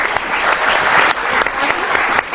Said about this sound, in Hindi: बच्ची के लिए तालियां तो बनती हैं।